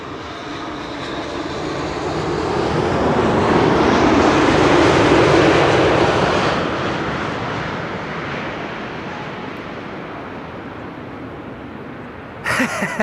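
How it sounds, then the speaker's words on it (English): A KLM Boeing 787-10 Dreamliner arrives at Schiphol's Kaagbaan 06, its engine roar swelling broadly to a loud peak mid-pass and then slowly fading away with no talk. "It's a 787-10 Dreamliner."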